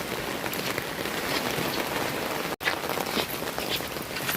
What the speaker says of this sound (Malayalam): മഴ മാത്രം ഇങ്ങനെ പെയ്യുന്നുണ്ട്